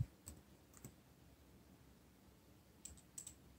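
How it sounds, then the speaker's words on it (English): Someone types on a computer keyboard in a few quiet, scattered clicks, a couple near the start and a small cluster near the end, in an otherwise hushed room with nobody speaking. "I will type here another sentence."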